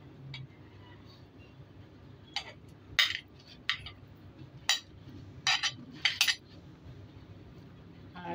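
Salted egg being mixed with fruits and vegetables, including star fruit, onion and cucumber, in a bowl. Utensil clinks and scrapes against the bowl come in irregular bursts of sharp clicks over a quiet background.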